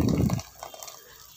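Water is poured into a pan of tomato chops cooking with ground coconut paste, a short gushing splash in the first half second that then gives way to a soft, faint simmering hiss.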